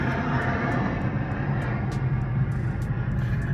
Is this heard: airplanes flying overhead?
yes